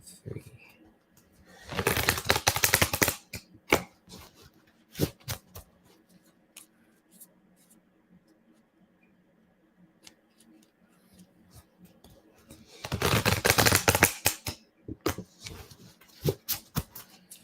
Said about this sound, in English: Let's shuffle this deck one more time.